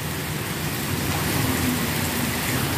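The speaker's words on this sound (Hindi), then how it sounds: "आज बारिश होना शुरू हो चुकी है" Steady rain pours down during the rice growing season, a dense, even hiss with no breaks, close and fairly loud throughout.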